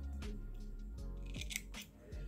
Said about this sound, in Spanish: Ahora cortamos el hilo